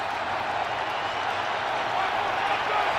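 A football stadium crowd cheering for the Giants going for it on 4th down against the Cowboys, a broad, steady roar under a commentator's voice.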